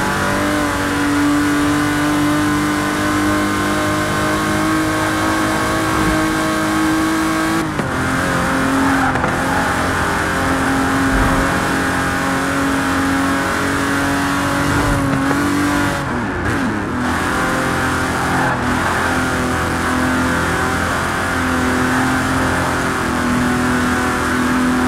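A 1960s Aston Martin DB5 Vantage with side-draft carburettors roars steadily in Forza Horizon 4, its engine note loud and close, holding a constant drone with brief dips and shifts in pitch that suggest gear changes.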